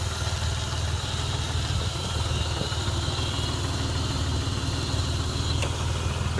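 A car engine idles steadily at close range, a vehicle being readied for an engine swap with a crusty exhaust manifold; the low, even rumble runs unbroken and alone, with no talk.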